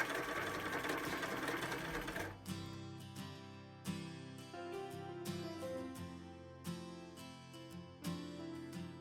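Sewing machine stitching a large beach bag with stiff, bulky interfacing and piping, steady mechanical whirring in bursts with short pauses and clicks, close and fairly loud.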